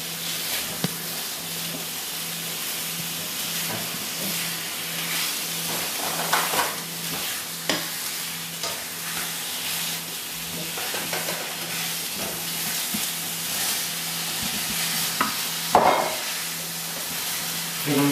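Chicken frying in a hot pan for fajitas, a steady close sizzle with occasional stirring scrapes and clinks that continues without a break and without any voices.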